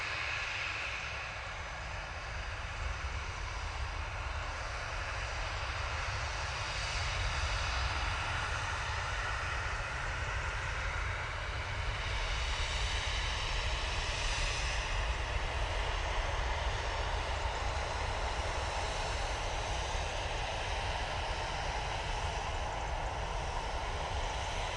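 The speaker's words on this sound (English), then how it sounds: "Qatar coming in now from Doha using a 787-9 Dreamliner." A Qatar Airways Boeing 787-9 Dreamliner arrives at Manchester Airport from Doha, its engine noise a continuous, fairly faint and distant roar that holds level throughout with a slight swell midway.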